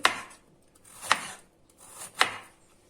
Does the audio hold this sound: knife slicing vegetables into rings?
yes